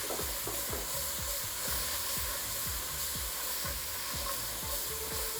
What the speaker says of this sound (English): So, once you get that in there, don't stop stirring.